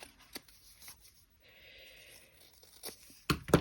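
Craft paper being cut down to size with scissors during a festive craft project, heard as soft, close snips and rustles ending in a louder crinkling rustle; quiet overall, no talk.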